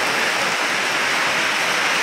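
Heavy rain pours steadily at a railway station, a dense, continuous hiss and spatter of water on surfaces, loud and unbroken throughout with no voices.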